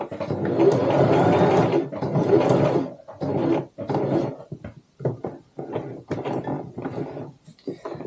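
A sewing machine stitches a tote bag in close, loud bursts: a long run of rapid mechanical stitching, then shorter stop-start spurts with brief pauses between them, and no talk over it.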